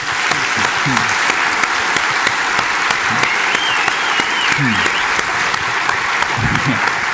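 Applause from a live audience for author Rutger Bregman at a talk on effective altruism, a steady dense wash of many hands clapping, loud and continuous, with a few voices faintly underneath.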